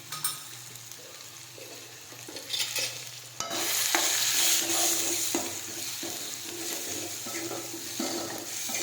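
Spices sizzling in oil as tempering for Gujarati dal dhokli, a quiet frying hiss that suddenly swells louder midway as more is added, with scraping stirs and small clinks throughout.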